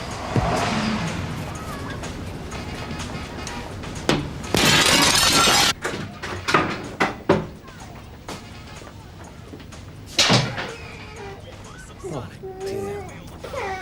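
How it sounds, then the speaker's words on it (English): Glass smashed open in a 1990 British police drama scene: a loud crashing shatter, a second burst of breaking glass several seconds later, and scattered tinkling and knocks in between, with people talking around it. "break the glass"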